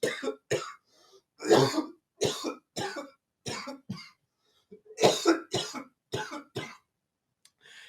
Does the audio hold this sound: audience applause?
no